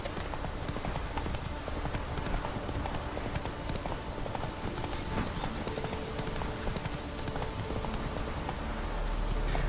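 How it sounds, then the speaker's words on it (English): The horse Roach galloping in The Witcher 3, a fast steady drum of hoofbeats running continuously and fairly loud, set against a dense game ambience. "Jump back on Roach and continue to our marker."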